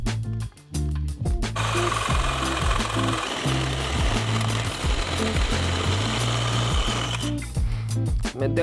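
Cutting the muffler off a Bertone Freeclimber: a loud, continuous, rapid rattling buzz of a cutting tool biting into metal, with a brief pause near the start and the cut ending near the close.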